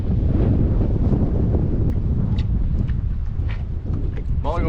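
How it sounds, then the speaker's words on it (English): Strong wind blowing across open water on a fishing outing, a constant loud rumbling buffet against the microphone with faint splashing underneath, no clear talking. "the wind's changed directions"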